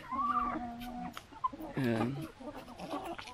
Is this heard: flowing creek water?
no